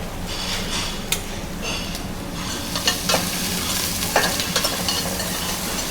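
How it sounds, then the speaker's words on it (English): Spices and onion fry in hot oil at a Fijian beach resort kitchen, a loud steady sizzle with scattered crackles, pops and a few sharp utensil clicks, close up and unaccompanied by speech. "just in hot oil to release the flavor of the spices"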